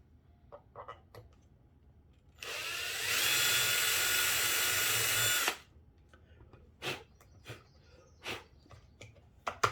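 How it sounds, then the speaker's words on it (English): A power drill whirs steadily for about three seconds drilling out a hole in a foam model aircraft, nearby, framed by scattered small clicks and taps before and after. "I'm going to go ahead and drill out the other hole."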